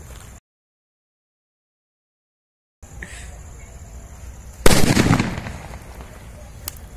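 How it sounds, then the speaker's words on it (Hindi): A sudden loud burst flares up and fades over about a second, a small bang from petrol with crackling tail against low background noise. "गाइस देखा आपने हल्का सा धमाका हुआ बिल्कुल।"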